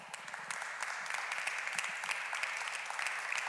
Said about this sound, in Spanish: Un fuerte aplauso para Carla.